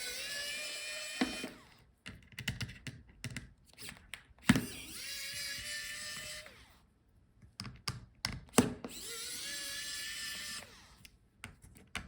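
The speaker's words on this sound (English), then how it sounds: "Now let's unscrew the hinges." An electric screwdriver backs out the hinge screws on a Dell Inspiron 14 7425 laptop in several short whirring bursts, each rising in pitch, separated by clicks and handling noises.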